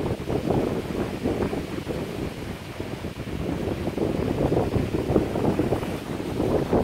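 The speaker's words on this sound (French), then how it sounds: "aujourd'hui, il y a beaucoup de vent, donc la mer est très agitée" Strong, steady wind roars and buffets the microphone at sea off the Cambodian coast, with rough water churning underneath and no voices.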